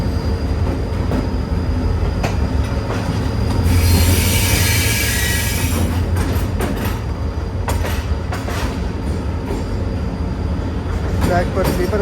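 A train passes loudly over a mainline track in Pakistan between Mirpurkhas and Karachi, with steady rumbling wheels, a burst of high metallic squeal early on and repeated clanks at rail joints throughout.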